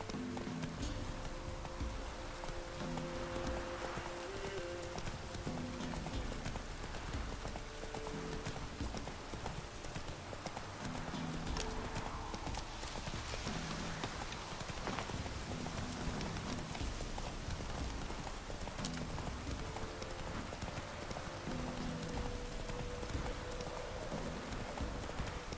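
Hooves of the horse Roach clip-clop steadily through rain in The Witcher 3 video game, a continuous rhythmic trot over constant rainfall and game ambience, with no talking.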